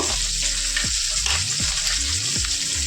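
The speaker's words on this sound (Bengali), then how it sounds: "একটু কড়া করে মাছের মাথাটাকে ভেজে নিতে হবে।" Hilsa fish head frying crisp in hot oil, a dense steady sizzle with a few bubbling bursts and stirring sounds, close and continuous with no talk.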